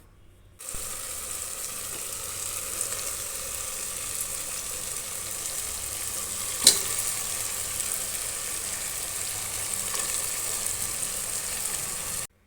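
Chicken leg pieces frying in a pot with onion and tomato for chicken biryani and gravy, an even, moderate sizzle running throughout, with one sharp clink near the middle.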